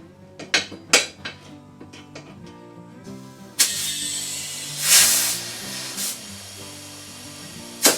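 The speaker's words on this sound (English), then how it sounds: "And then we'll air it up so that the bead seats." Air hisses in bursts into the inner tube of an MTD riding mower tire to seat the bead, with a sustained rush of escaping air midway, mixed with clanks of metal tools.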